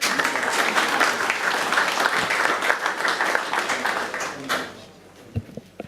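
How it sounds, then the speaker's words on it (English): An audience applauds at a forum, steady clapping from a crowd that fades out after about five seconds, leaving a few scattered claps and taps. "You can clap."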